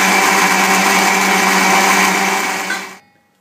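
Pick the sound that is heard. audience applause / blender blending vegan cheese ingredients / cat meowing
blender blending vegan cheese ingredients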